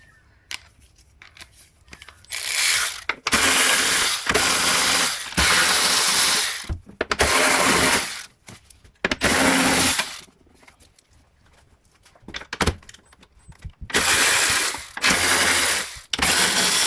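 A hand ratchet loosens a 12mm bolt on a Mazda CX-5 during brake master cylinder and booster work, giving several loud bursts of rapid clicking close by, separated by short pauses.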